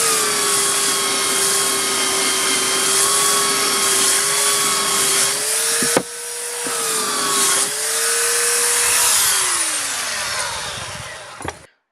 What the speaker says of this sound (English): I'm using a 50 to 80 grit sandpaper on the belt sander for the rough work.